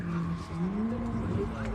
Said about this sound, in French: Je sais pas si vous entendez le bruit des pneus.